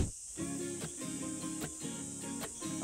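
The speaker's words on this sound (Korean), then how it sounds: "이 매미가 저를 반겨주네요" Cicadas in the mountains, a steady shrill buzzing drone with pulsing rhythmic chirps repeating every half second or so, moderately close and continuous with no voices.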